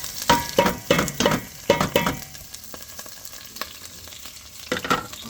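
Ginger, garlic and onion are sautéed in a hot pan with a loud close sizzle. A quick run of stirring scrapes and clatters comes first, then the frying carries on more steadily, with no voices.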